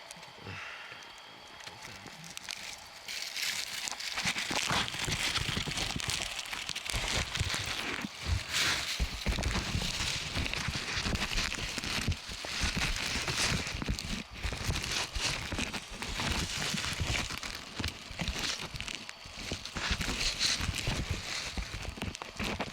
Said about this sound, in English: it literally hasn't stopped raining